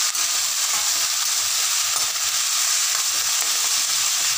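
Thoothuvalai leaves stir-fried in a pan give a loud, steady, close sizzle with a continuous bright hiss that does not let up.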